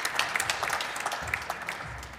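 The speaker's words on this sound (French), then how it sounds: "Et on peut vous applaudir." Brief audience applause for panel speakers at a French transport energy-transition conference, a soft wash of claps from the room that tapers off toward the end, heard alone without speech.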